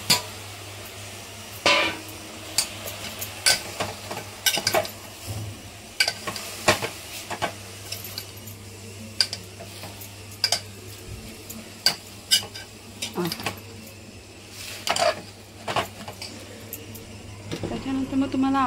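Potato and corn kernels being stirred together in a pan, with repeated clinks and scrapes of a utensil against metal over a low steady hum, close and fairly loud throughout.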